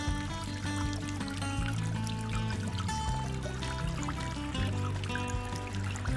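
Water pours and trickles steadily through a Blue Bowl gold concentrator run on a speed controller, a continuous near splashing flow over a low mechanical hum.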